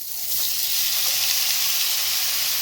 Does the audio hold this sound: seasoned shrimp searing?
yes